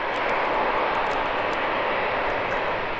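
A fixed-wing airplane passes close overhead at Schiphol airport, with a steady, loud broadband engine roar that holds at full strength throughout and has no voices over it.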